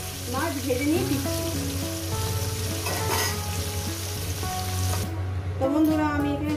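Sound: fish frying in oil

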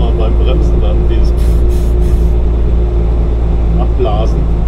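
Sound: truck air brake blowing off air

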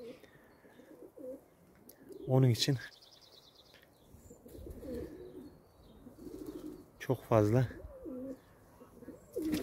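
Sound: pigeons cooing

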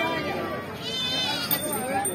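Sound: goat bleating at a livestock market

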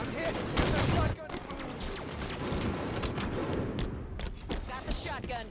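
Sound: gunfire in the video game Halo 5

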